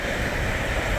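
A train passing Bannockburn station near Stirling, Scotland, heard as a steady, loud broadband rumble and rush with no breaks, wind-like and close, without any talking over it.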